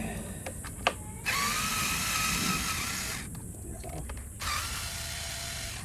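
A screw is worked loose from the rear wheel of an iScooter i10-Plus electric scooter, with two long stretches of close whirring and grinding from a tool, broken by short clicks and a sharp tap.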